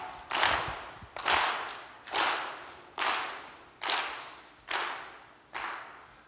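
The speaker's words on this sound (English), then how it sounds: "Clap, clap, clap, clap," An audience at a CEO Space keynote claps in unison: seven sharp claps at an even, deliberate pace, each ringing briefly in a reverberant hall.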